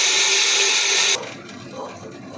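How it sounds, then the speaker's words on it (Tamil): A kitchen grinder whirs loudly while grinding sago pearls for beetroot vadam, then cuts off abruptly just over a second in, leaving quieter low rattles and handling sounds. "இப்போ சவ்வரிசி அரைச்சாச்சு."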